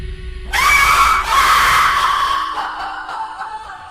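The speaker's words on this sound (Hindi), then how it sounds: "तभी अचानक किसी महिला की चीख सुनाई दी।" A woman's scream breaks out suddenly after a low rumble, loud and sustained, then trails off into a fading wail, used as a horror story sound effect.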